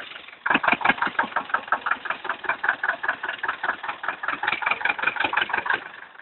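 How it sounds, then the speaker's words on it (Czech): A Zetor 25K tractor engine idles after a full overhaul, with steady, even knocking beats close by. It runs alone and evenly throughout after a brief quieter start. "Motor po generálce. A běží jak víno."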